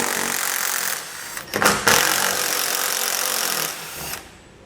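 A power tool whirs in loud sustained bursts while 10mm bolts are backed out underneath a 2015 Jeep Cherokee, with a brief pause and rattling in the middle before the motor resumes and then stops.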